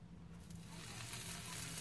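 Bacon sizzling in a pan in a tiny minimalist kitchen, a faint, continuous crackling hiss with no voices.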